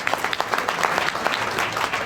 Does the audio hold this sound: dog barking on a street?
no